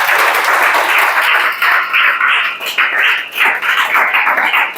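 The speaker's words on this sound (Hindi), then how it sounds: "ताली बजाओ अगर समझ आ गई तो" A classroom of students clapping hands together in a sustained, dense burst of applause that carries on steadily for several seconds with small swells and dips.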